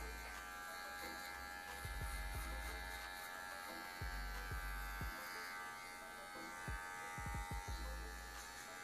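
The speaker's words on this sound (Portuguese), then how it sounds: "faz essa marcação aqui com a máquina número 0" An electric hair clipper with a number 0 guard hums steadily while cutting hair for a fade with a line, a close, constant buzz broken by low bumps of contact, with no speech.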